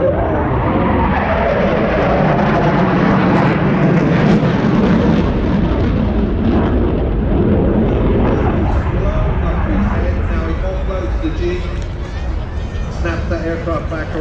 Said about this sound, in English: Snaps that aircraft back around to convert the negative G to positive G.